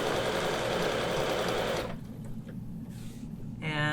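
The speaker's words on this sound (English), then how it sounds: "I'm going to stitch diagonally down to that" A sewing machine stitches steadily at close range for about two seconds while quilting diagonal lines against a Westalee ruler, then stops; faint handling noises follow before a short burst of stitching resumes.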